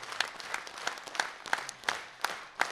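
A studio concert audience claps for women accordion players in slow rhythmic unison, with evenly spaced sharp claps about three per second, fairly close and clear.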